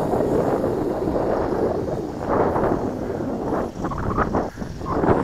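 Strong wind at an RC airplane flying field buffets the microphone in a loud, continuous roar with gusty surges and brief dips, heard alone without talk.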